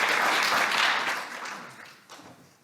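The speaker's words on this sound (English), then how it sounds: "it's time for another round of applause" A conference audience applauds between talks, a burst of many hands clapping that is loudest at first, then thins and fades out over a couple of seconds.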